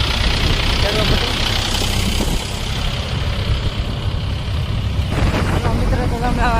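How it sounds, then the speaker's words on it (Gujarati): Three Mahindra tractors set off to plough hillside fields, their engines rumbling loudly and steadily close by, with a voice talking over the drone. "અમારે ત્રણ ટ્રેક્ટર ખેડવા માટે નીકળી જશે"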